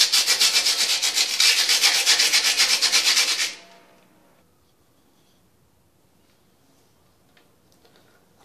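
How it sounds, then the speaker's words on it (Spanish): A sink drain plug is sanded by hand to scour out dirt, with fast rhythmic scraping strokes close by for about three seconds before stopping abruptly into near silence. "Sacamos el tapón y damos una pequeña lijada para sacar toda la tierra que tiene dentro."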